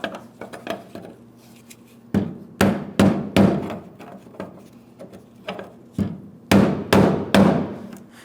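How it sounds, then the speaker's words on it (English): Sharp metallic hammer blows on a brass punch against the fuel pump lock ring of a 2007-2014 Ford Edge 3.5L V6, about a dozen irregular ringing strikes, some in quick pairs, close and loud with quiet gaps between. "we'll continue on with a hammer and a brass punch."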